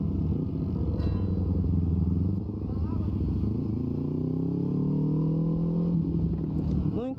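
Motorcycles rev and accelerate on a street, their engine tones rising in pitch over a constant rumble of nearby traffic, loud and close throughout.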